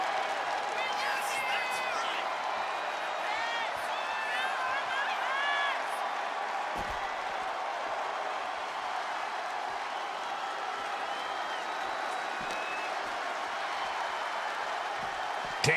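A wrestling arena crowd at a WWE live event keeps up steady cheering and clapping throughout, a dense, continuous roar with whistles and shouts rising and falling under a commentator's voice.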